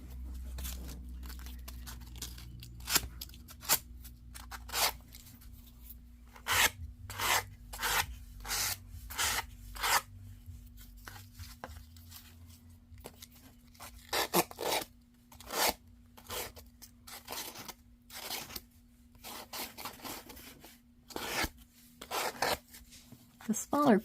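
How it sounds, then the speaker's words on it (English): Folded sandpaper rasps across packaging paper in close, irregular strokes, each a short scratchy burst with brief pauses between, over a low steady hum. "and start sanding."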